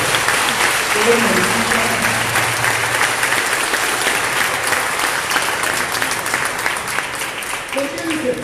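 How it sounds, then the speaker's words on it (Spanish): A church congregation claps steadily throughout, applauding in welcome of visitors as a preacher's voice carries over the dense, continuous clapping. "Denle un fuerte aplauso al Señor para las personas"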